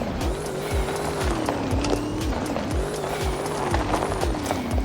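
A car drifting in the Roblox-style game Car Crushers, a continuous wavering tire squeal over a buzzing game engine with repeated swooping mechanical effects, loud and close.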